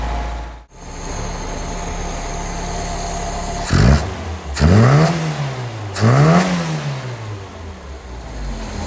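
A Tofaş Şahin car engine idles steadily, then gets three quick revs that climb and fall back in pitch, loud and close, with the idle continuing between them.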